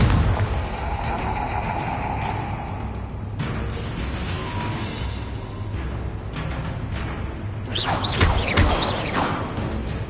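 Confringo spell blasts in Hogwarts Legacy, heard as repeated explosive booms and crashes over a dense bed of game combat noise, with a louder burst near the end.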